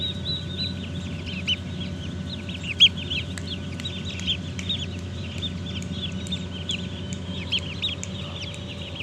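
A flock of chicks cheeps continuously on a farm, the dense high chirps overlapping steadily and close by, with no voices.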